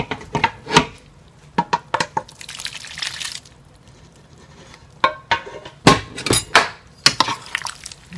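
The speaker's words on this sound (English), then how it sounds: "going to give this a nice stir" A pork sausage and mushroom pasta sauce is stirred in a pan, with irregular sharp clinks and scrapes of a utensil against the pan and wet, splashy moments between quieter pauses.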